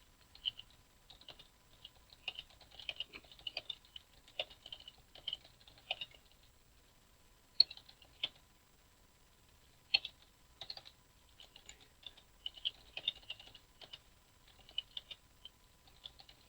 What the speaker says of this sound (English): click batch entry, and just type in your words